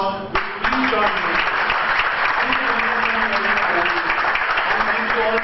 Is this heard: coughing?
no